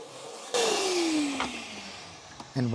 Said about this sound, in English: I'll just vacuum this out quick.